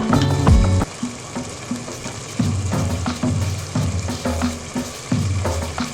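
Rice boils hard in a pot for chicken biryani, giving close, continuous bubbling and sizzling with regular louder surges.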